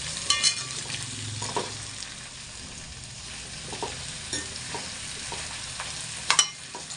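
Onions frying in oil for a raw banana and peas curry, a low steady sizzle broken by a few sharp spoon clinks and stirring scrapes.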